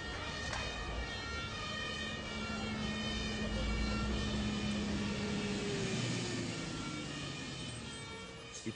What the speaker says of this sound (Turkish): İtfaiye yardıma geliyor.